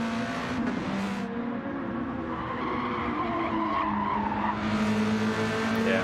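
A race car handbrakes and skids across the finish line at Catalunya, tires squealing in a long continuous slide with engine noise underneath, loud and close throughout.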